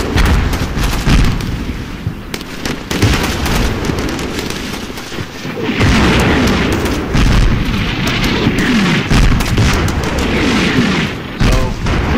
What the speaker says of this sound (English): Hoping that those mortars that I called them will silence that enemy squad in the trench.